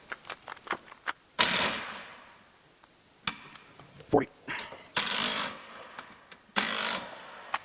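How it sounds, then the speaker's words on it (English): A ratchet and socket tightening a bolt during a RoadMaster suspension install, with brief clicking bursts, metallic knocks and short scraping sounds in an irregular rhythm, close by, with scattered workshop noise between. "Your socket on your ratchet"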